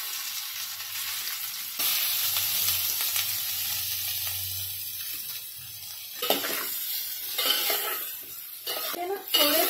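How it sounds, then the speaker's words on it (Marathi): Paneer frying in ghee for garlic matar paneer, a continuous bright sizzle with a low hum early on and several scraping stirs near the end, close and moderately loud, no talk. "ते ना थोडे पनीर मी ना फ्राय करून घेतले"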